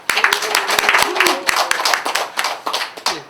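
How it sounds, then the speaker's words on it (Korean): Audience applause welcoming a lecturer to a university class on sustainable development goals: a room of hands clapping steadily and fairly close for several seconds, with murmured voices underneath. "뜨거운 박수로 맞이해 주세요."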